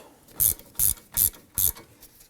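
Four crisp ratchet clicks in an even rhythm as caliper bolts are run down on a Volvo XC90 front brake job, sharp and close with quiet gaps between, no voices.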